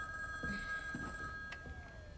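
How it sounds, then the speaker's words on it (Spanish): A telephone rings in a home with faint household noise around it, giving a steady electronic ringing tone that continues through a short stretch with no clear speech over it. "Responde el teléfono."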